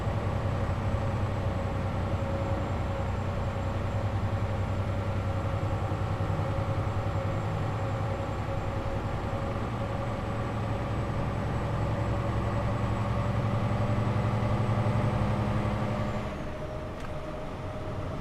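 A steady truck engine drone in Euro Truck Simulator 2 holds for most of the time, loud and constant, then drops off suddenly near the end.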